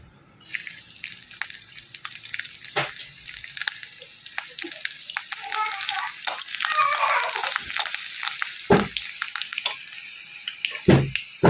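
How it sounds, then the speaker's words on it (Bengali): Chopped garlic dropped into hot oil for tarka, a bright hissing sizzle that starts abruptly and holds steady, with occasional spatters and stirring knocks, close and loud. "তেলটা গরম হয়ে গেছে, আমি এর মধ্যে আগে দিয়ে দিচ্ছি রসুন কুচি"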